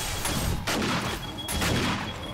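Loud gunshots in 7 Days to Die, three heavy blasts spaced roughly a second apart, each with a booming tail, over steady game background noise.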